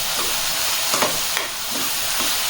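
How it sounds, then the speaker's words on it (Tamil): Onion and soaked moong dal sautéing in a pan for cabbage poriyal make a loud, close sizzle, broken by a few scraping stirs of a spatula, with no voices. "இதை நல்லா அந்த வெங்காயத்தோட இந்த சிறுபருப்பை வதக்கிக்கோங்க"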